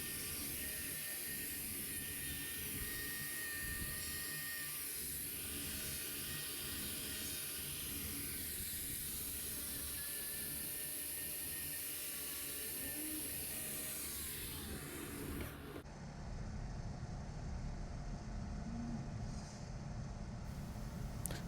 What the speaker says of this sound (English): I'm going to speed this up through the grinder work here